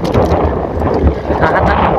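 Wind gusts over choppy water at sea off Camiguin, buffeting a small fishing boat in a loud, rough rush of wind and splashing, with a voice briefly audible under the noise.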